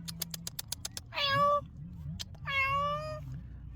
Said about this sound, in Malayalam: നമ്മളെ പാവം പൂച്ച പാവം അതിൻ്റെ ഉള്ളിൽ